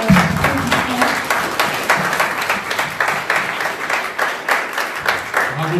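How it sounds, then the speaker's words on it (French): An audience at the Start-up Khoja first-edition final applauds the start-up teams, a steady round of clapping throughout with a few voices faintly audible beneath it. "c'est là où on doit tous s'applaudir"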